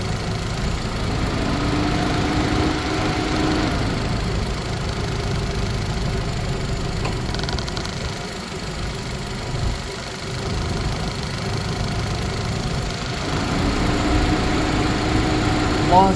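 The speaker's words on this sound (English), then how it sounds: "Once you are done and happy with the results, you can turn off the engine." Nissan Rogue engine idling during an A/C refrigerant recharge: a steady, even mid-pitched hum held throughout with slight dips, close and continuous.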